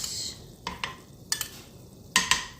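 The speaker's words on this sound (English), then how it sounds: "I'm going to add my garlic to the olive oil" Garlic sizzles softly in olive oil in a pan on low heat, a faint steady hiss broken by three pairs of sharp stirring scrapes and clinks of a utensil against the pan.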